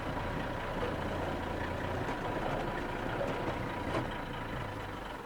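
Unimog truck reversing in first or second gear: a steady, loud low diesel engine drone holds throughout at close range, with no voices over it.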